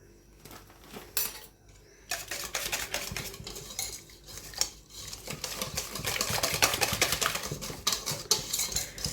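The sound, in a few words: stirring flan mixture with cornstarch in a bowl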